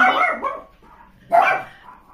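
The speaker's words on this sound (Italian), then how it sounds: "adesso abbaiano tutti" Several dogs bark at home: two loud, close bursts of barking about a second apart, with a quieter gap between them.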